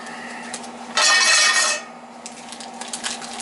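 A new 13-inch pan handled on a kitchen stove: a brief loud metallic scrape lasting under a second, then quiet clinks over a low steady hum.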